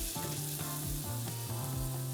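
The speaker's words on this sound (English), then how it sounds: "We're starting that frying process" Frittata batter of beaten egg and vegetables sizzles in hot sunflower oil in a pan, a dense, even crackle holding steady at close range with no voices over it.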